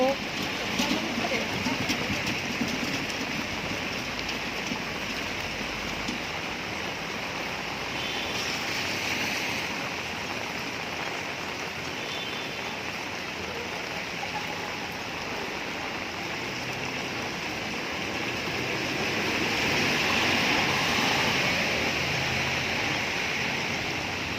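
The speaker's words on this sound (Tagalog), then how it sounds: "Malakas ang ulan." Heavy rain pours down in a steady, dense hiss that swells slightly toward the end, with a voice speaking Tagalog now and then beneath it.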